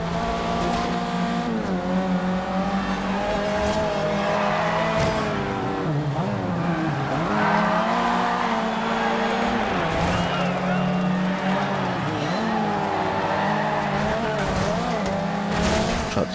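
Forza Horizon 2 race on a town square circuit with a red Corsa hot hatch: engines drone and rev up and down continuously with occasional tire squeal, loud throughout, while people talk over the racing.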